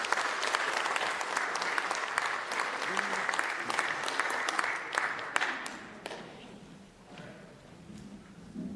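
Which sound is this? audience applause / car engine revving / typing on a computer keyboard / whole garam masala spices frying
audience applause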